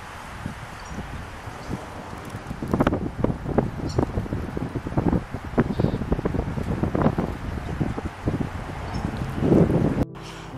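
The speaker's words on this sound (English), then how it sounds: "the wind is, you know, blowing a little bit. So I'm thinking it's just leaves rustling." Gusty wind buffets the microphone in a graveyard while leaves rustle and crackle in irregular bursts, loud and close, ending with an abrupt thump.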